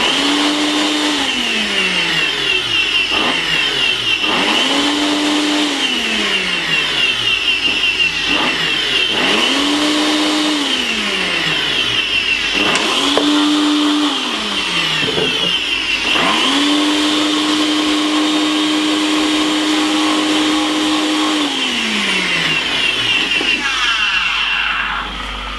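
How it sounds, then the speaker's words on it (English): A Ninja blender whirs loudly through a home remedy mixture in repeated pulses, the motor revving up and dropping back several times before one long steady run near the end. "we're just going to simple blend this up"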